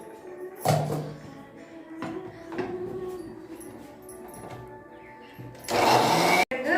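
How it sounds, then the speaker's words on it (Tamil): Electric mixer grinder whirring as it grinds chopped tapioca into batter for vada, a loud motor surge near the start and a harsher burst near the end, with quieter whirring between. "நம்ம மிக்சரை போட்டு அரைக்க போகிறோம்"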